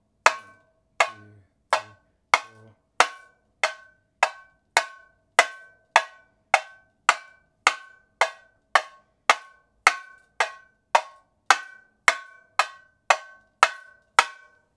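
A tamborim plays the Carreteiro 3x1 rhythm: a steady stream of sharp, bright stick strokes, about two per second, with accents on some beats. Close and dry, with no voices.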